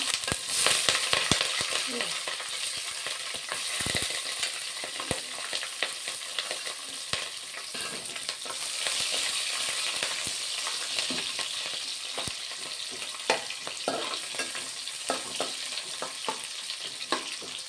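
Chopped onion and green chillies fry with spices in a pan, a steady close sizzle with frequent scraping and clinking stir strokes throughout, no talking.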